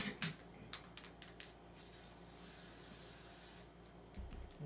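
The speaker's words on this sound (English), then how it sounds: "Now I'm going to spray the orange again." Aerosol spray paint hissing onto a surface while painting a chevron ombré design in orange, a steady faint spray with a few short clicks and bursts, no voices.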